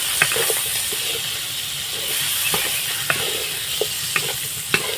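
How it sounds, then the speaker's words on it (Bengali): Crab pieces frying lightly in a pan for a crab tok, a continuous close hiss of sizzling oil with several crisp spatula taps and scrapes spaced through it. "আমি হালকা করে ভেজে নেব আর আমি কাঁকড়াটা ভেজে তুলে নেব না"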